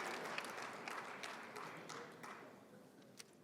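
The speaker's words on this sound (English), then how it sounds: "Please give your applause to this brave student, this brave graduate from October of 2021." At a spring graduation ceremony, an audience gives soft, distant applause for a graduate, with scattered claps that slowly fade over a few seconds.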